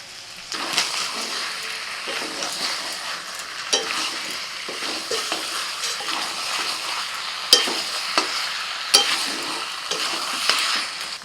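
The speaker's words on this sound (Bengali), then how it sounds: "ভালো করে আলু আর মাংস মশলার সাথে কষে নিয়েছি।" Potatoes and meat fry with spices in a pan, a steady close sizzle broken by repeated scraping stirs and occasional sharper clinks, with no talking.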